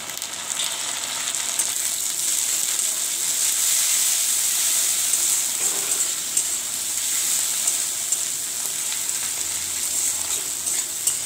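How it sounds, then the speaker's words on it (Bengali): Chopped large tomato goes into a pan of frying onions that have already turned brown, setting off a loud, steady sizzle and hiss that runs unbroken throughout, with no talking. "এবার আমি দেবো টমেটো কুচি, একটা টমেটো কুচি করে রেখেছি"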